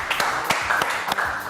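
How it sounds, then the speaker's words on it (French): Studio audience applause on a French TV talk show, a dense patter of clapping hands with sharp individual claps standing out, steady and fairly close for a short burst. "Je vous demande de l'applaudir très très fort."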